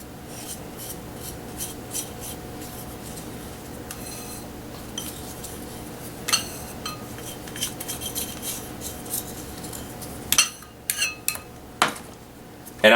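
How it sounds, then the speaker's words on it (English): A flat-cut wooden tongue depressor scraping the bottom of a container, heard as soft rubbing scrapes with scattered light clinks and knocks, sharper taps toward the end. "I'll take a tongue depressor, cut the end of it flat, because now I can use it to scrape the bottom."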